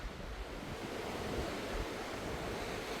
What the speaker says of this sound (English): Yeah, this is a nice and quiet beach